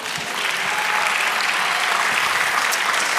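A church congregation at a Spanish-language sermon claps for the Lord, steady, dense applause from many people rising slightly and holding for a few seconds.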